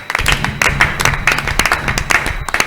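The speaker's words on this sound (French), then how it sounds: "on acclame pour le Seigneur" A church audience applauds the Lord during a French-language religious broadcast, a loud, dense burst of many hands clapping that carries on steadily for a few seconds.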